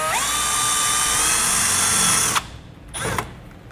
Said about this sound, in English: we'll drill that out with the smaller bit